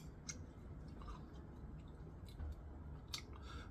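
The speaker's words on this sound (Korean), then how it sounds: "제가 씹는 소리 들리죠?" Someone chews cooked black kkachi mushroom close to the microphone, giving soft, crisp bites and squishy chewing in an irregular rhythm against quiet background hiss.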